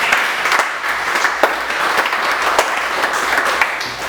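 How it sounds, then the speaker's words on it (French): A church congregation applauding together in praise during a French-language sermon, with steady, dense clapping that holds fairly loud and even for the whole stretch, a few sharper claps popping out of the wash. "Acclamons pour la gloire du Seigneur."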